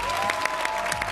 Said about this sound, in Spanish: Este aplauso es para ti.